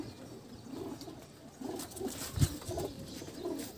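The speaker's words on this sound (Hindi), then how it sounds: "अरे अभी भी हमारे दोस्त के कबूतर उड़ रहे हैं, ये देखो" Pigeons cooing outdoors on a hot afternoon, soft repeated low coos scattered through steady background noise, with a brief louder thump midway and no talk.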